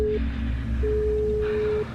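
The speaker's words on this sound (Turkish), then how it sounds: "Çalıyor arkadaşlar." A video call rings out with a steady electronic tone, one short beep and then a longer held one, over low background hum.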